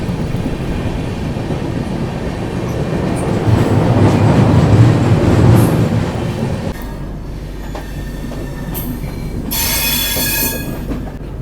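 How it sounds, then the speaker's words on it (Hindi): A Vande Bharat Express running from Meerut to Lucknow passes alongside, heard from aboard another train in India. It makes a loud, swelling rumble with wheel squeal and rail clatter, then fades into a lower steady roll. "ये अभी बगल से क्रॉस हुई मेरठ से लखनऊ जाने वाली वंदे भारत एक्सप्रेस।"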